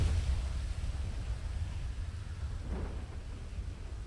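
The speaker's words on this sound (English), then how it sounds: "I'm glad I've learned how to just tune out the storms on occasion." A thunderstorm in a GTA roleplay game, with a continuous low rumble of thunder and a steady hiss of rain at a constant, moderately loud level and no voices.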